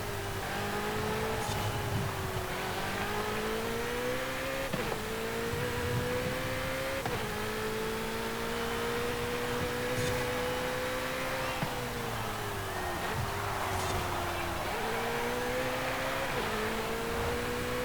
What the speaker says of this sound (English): I'll let you listen to the engine first if you've not heard the engine from one of these cars before